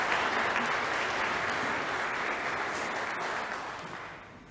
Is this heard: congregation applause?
yes